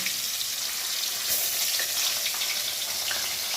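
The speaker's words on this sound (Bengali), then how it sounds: "এবার গরম তেলের মধ্যে মাছগুলোকে আমি ভেজে নেব" Pabda fish fry in hot oil in a kadai, giving a continuous close crackling sizzle with small spitting pops and a faint stir now and then.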